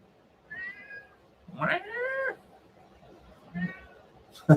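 A house cat meows three times close by, with short plaintive calls separated by pauses and the middle one longest, over faint room noise.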